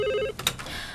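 A telephone rings with a short electronic tone, then a burst of brighter ringing, close and clear.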